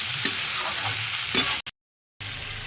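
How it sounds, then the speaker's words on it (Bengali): Strawberries stirred into fried spice paste in a pan, a soft steady sizzle with a few scraping strokes of the spoon, close and alone, then a sudden brief silence before the frying resumes. "এবার আমি স্ট্রবেরিগুলো দিয়ে দেবো স্ট্রবেরিগুলো একটু নাড়িয়ে চালিয়ে দেবো"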